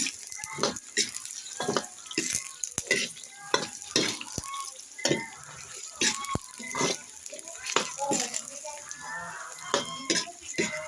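Sweet potato pieces sizzling and bubbling in hot cooking oil, with repeated scraping and stirring clatters from a utensil in the pan, close and moderately loud, a voice speaking intermittently.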